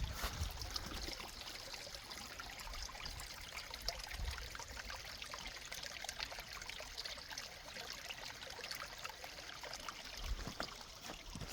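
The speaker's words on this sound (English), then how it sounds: "I love the little trickle." A small river stream trickling and babbling steadily outdoors, a faint continuous watery patter with no voices.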